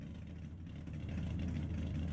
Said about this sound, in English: let it warm up. That car is loud, bro.